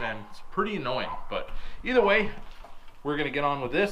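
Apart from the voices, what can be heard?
No everyday noises stand out.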